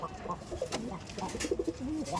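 Andhra Madrasi pigeons in a loft give soft, low cooing calls, a few short murmuring phrases repeated close by at a quiet level.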